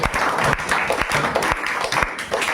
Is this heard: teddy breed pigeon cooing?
no